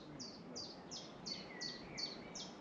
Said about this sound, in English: I don't know if it's a blue tit or it could be a wren. It's been very chatty.